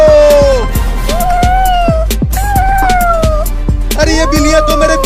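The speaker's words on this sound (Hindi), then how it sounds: "अरे ये बिल्लियाँ तो मेरे पीछे ही पड़ गई।" Several cats meow repeatedly in quick succession, loud and close, with wavering drawn-out cries overlapping one another.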